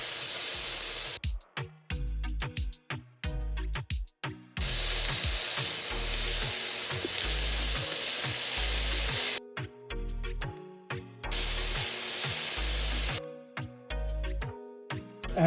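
A second batch of beef hits a hot pan and sizzles in loud, hissing bursts, interrupted by brief gaps with low rhythmic background music.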